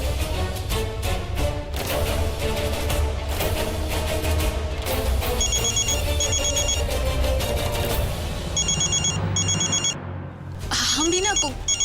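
A telephone left lying in a room rings with a repeated electronic tone, heard in bursts over a dramatic music score and a busy indoor background in a Hindi family drama scene.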